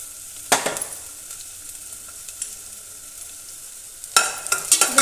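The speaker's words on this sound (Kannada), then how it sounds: "ಇದೆಲ್ಲ ಮೆಣಸಿನ್ಕಾಯಿ ಚಟ್ಪಟ ಅನ್ನುತ್ತೆ" Chopped green chillies and garlic sizzle and crackle in hot oil in a pan while making veg manchow soup, a steady hiss broken by two louder bursts of spattering, close and alone.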